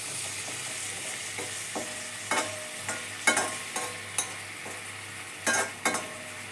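Shallots and chopped tomato fry in a pan for a prawn and drumstick chilli curry. A soft continuous sizzle runs throughout, punctuated by several close scraping clicks of a spoon stirring.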